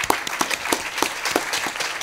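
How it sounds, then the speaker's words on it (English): Conference audience applauding panelists at an advocacy event, a brief burst of individual hand claps with a few distinct, loud claps standing out in a short, uneven rhythm. "Please give them a round of applause."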